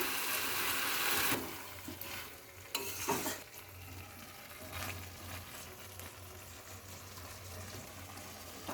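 Pumpkin curry with tomato and red lentils sautéing in a pan, steady sizzle with stirring scrapes, a loud hiss at the start that drops, then continuous frying with occasional utensil knocks.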